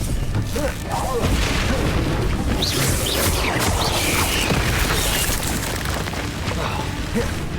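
The Bombarda explosion spell in Hogwarts Legacy, played on Nintendo Switch, sounds as a dense, loud, continuous rumble of booms and blasts. Layered game noise and voices run throughout.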